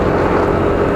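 A motorcycle engine drones steadily while riding on a rough country road in the hills of Siquijor, a loud, close, continuous hum with no talking.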